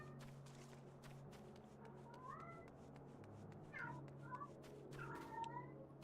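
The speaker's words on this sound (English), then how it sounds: "Where's my cat meowing?" Domestic cat meowing several times at moderate distance, rising and falling calls over a steady low background hum, with faint clattering movement.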